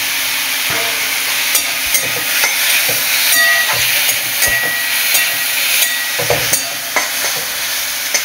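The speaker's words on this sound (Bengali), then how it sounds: "দিয়ে দেবো শুকনো লঙ্কা। দিয়ে দেবো কাঁচা লঙ্কা।" Dry red and green chillies sizzling in hot oil in a frying pan for katla fish curry, a loud continuous hiss with intermittent scraping stirs and crackles, no talking.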